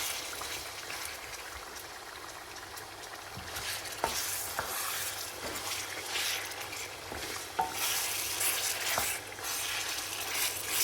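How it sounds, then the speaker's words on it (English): Marinated chicken sizzles steadily in hot oil in a pan for a Burmese chicken noodle stir-fry, a continuous close crackle broken by occasional clinks of stirring. "Add the marinated chicken, letting it sizzle for 5 minutes until it dons a delightful color."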